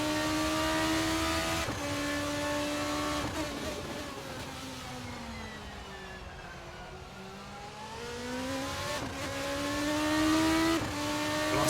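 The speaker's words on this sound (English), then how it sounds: "The Schumacher is now flat out, no sign of any lifting there" A race car in a sim racing game on the Nürburgring GP circuit screams through the gears, its engine climbing, shifting, dipping low through a slower stretch, then revving hard again, loud and continuous with no voices.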